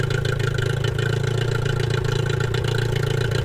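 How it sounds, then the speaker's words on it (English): A Yamaha 15HP two-stroke outboard engine idles during a freshwater flush, a steady, loud, buzzing drone with a fast even pulse that holds unchanged throughout, no voices. "So I'll just let that idle for about 4 minutes"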